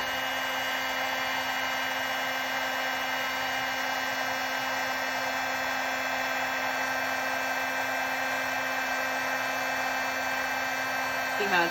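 A heat tool blowing a steady, loud, unbroken whine and rush of air while heating puff paint, running close and constant throughout with no pauses.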